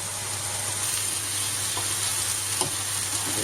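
Boiled noodles tossed into vegetables frying in a pan, giving a steady close sizzle with a few soft stirring scrapes and no voices.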